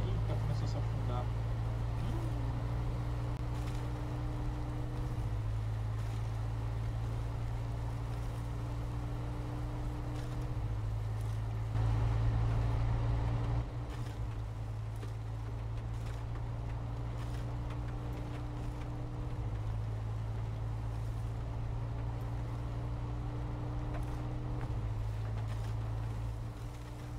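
A truck engine in the SnowRunner video game strains while the truck is stuck deep in mud, with a steady low drone shifting in pitch and swelling briefly as it revs, while someone talks over it.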